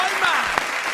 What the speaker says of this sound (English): Can we please get a round of applause for the big man